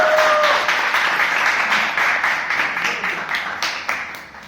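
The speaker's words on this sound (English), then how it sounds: "let's have a huge round of applause for Ajay and Rohita." An audience at a Toastmasters club meeting gives a round of applause, dense clapping that starts strong after a brief voice and gradually fades over several seconds.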